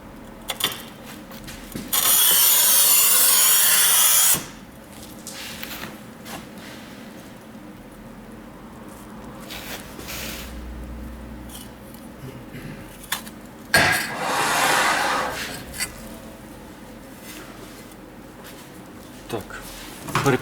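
Manual tile cutter, a Rubi FAST 85 or Stark MTC 1000, scoring and snapping a ceramic tile: two harsh, gritty scoring scrapes, each a couple of seconds long and ending in a sharp snap, with quiet handling sounds between.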